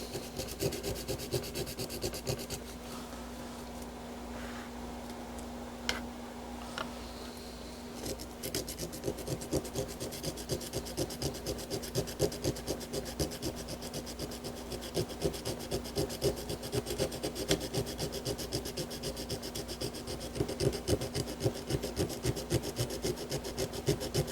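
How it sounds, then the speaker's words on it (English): A burnt edge connector on an arcade Star Wars filter board is sanded down by hand, a steady rhythmic rasping scrub that keeps going close up for the whole stretch, with a constant electrical hum underneath. "So let's go ahead and sand this down."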